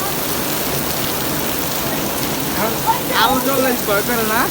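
Heavy rain pours steadily at Gulistan volleyball stadium in Dhaka, a loud broad hiss filling the space while people call out and talk over it toward the end.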